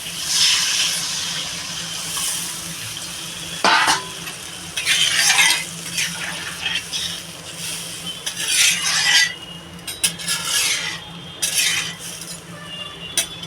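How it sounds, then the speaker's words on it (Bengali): Water poured into sautéed elephant foot yam curry in a pan brings bursts of splashing and hissing, broken by clinks of a spoon against the pan, loud and close, with a low steady hum underneath. "আমি এবার জল দিয়ে দেবো পরিমাণ মতো"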